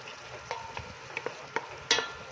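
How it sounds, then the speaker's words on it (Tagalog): Oyster sauce being sautéed in a home cooking pan, with a few soft scrapes and stirring knocks over a faint sizzle, up close and with no voices. "Kailangan ginigisa ko din po yung oyster sauce"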